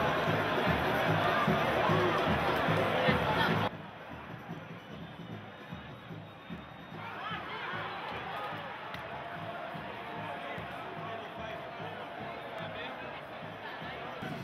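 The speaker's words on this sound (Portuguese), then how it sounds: "O Ceará abre o placar e a pequena torcida no Barradão comemora." A small football crowd at Barradão stadium celebrates Ceará's opening goal with a loud, broad wash of cheering that drops sharply after a few seconds, then continues as a steady, softer stadium roar.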